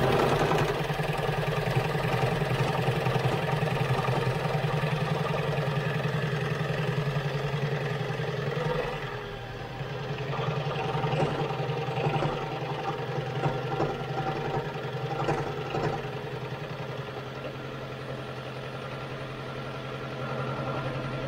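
A Toyota Prius engine with a blown head gasket leaking coolant, idling close by with an uneven, lumpy hum and a faint knocking, the level dipping briefly midway; no one speaks.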